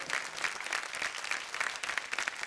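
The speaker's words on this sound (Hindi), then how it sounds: "जोरदार तालियां।" Audience applause breaks out at the grand finale of a Bhojpuri folk singing reality show, as the season's second runner-up is announced. Dense, steady clapping from a large crowd fills the space without a break.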